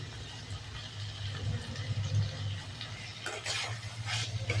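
Green turkey berries sautéing in a pan for a coconut-based Tamil kuzhambu, giving a low, steady sizzle with occasional stirring scrapes and light clinks, close and fairly quiet throughout.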